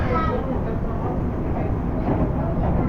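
Interior of a moving passenger train, with a steady, loud low rumble and rolling hum filling the whole stretch and no distinct breaks.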